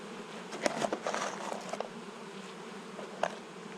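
Honey bees buzz around a beehive in a steady, fairly quiet drone, with a few louder passes as individual bees fly close by.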